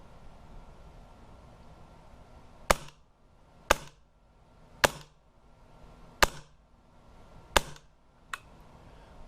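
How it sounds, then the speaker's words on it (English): Five evenly spaced shots snap from a Hatsan Sortie .25 caliber air rifle, each a sharp crack with a short tail, and a faint sixth click at the end over a quiet background. "So got the 5 shots through"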